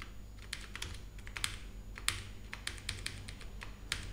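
Fingers tap keys on a computer keyboard in quick, irregular bursts of sharp clicks, fairly close but quiet over a low room hum, with no talking.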